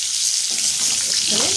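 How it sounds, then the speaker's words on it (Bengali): Long potato strips frying in hot oil with cumin seeds and a bay leaf, a steady loud close sizzle and hiss that continues throughout, with a faint hint of a voice near the end. "লম্বা লম্বা করে আলুগুলো ভেজে নেব"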